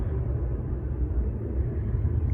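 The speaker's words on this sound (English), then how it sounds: "There's a jet car on the runway down there." A continuous deep, roaring rumble of a jet car's engine on a distant runway, steady and low-pitched without pause, with no voices.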